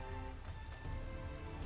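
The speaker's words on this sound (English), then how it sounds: "as you can see, it's raining and there is no sunshine" Rain falls in the video game Final Fantasy XIV Shadowbringers as a steady, even hiss with soft music tones running through it.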